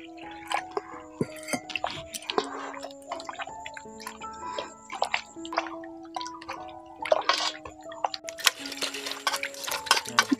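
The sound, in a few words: washing homemade soya chunks in water in a pot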